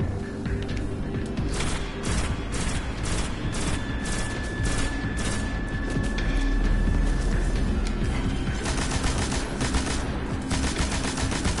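Rapid automatic gunfire with heavy recoil from the video game Destiny, a dense, continuous stream of loud shots with brief pauses and bursts, no speech over it.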